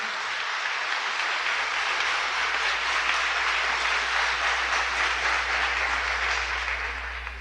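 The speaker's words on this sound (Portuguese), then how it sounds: "Pode aplaudir." A church congregation claps together during a sermon, a broad continuous roar of applause filling the room at steady strength, with a low hum underneath and no talking.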